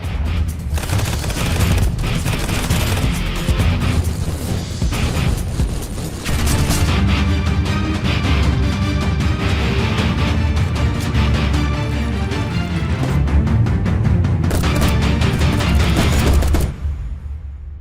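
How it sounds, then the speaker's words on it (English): Dense gunfire from the Contractors VR military shooter game: continuous loud bursts of automatic weapons fire and booming impacts for most of the span, briefly dipping near six seconds, then cutting off abruptly at the end. "Experience the next level virtual warfare with hardcore controls, lethal weapons, customizable loadouts, and intense firefights."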